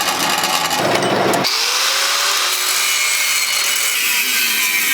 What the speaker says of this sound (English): I'm gonna cut this lip off so that this can sit closer to the compressor cover